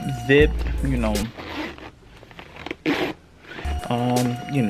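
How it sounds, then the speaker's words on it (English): Small zipper on the pocket of a Telfar medium shopping bag being pulled open or closed, a brief close scratchy run amid steady talking from the person handling the bag. "It has a cool little zip"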